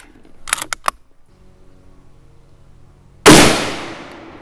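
A .35 Remington rimmed rifle fires a single load-test round of 38.5 grains of Accurate 2520 powder. A sharp, loud report cracks out and decays quickly, after a few light mechanical clicks and quiet handling.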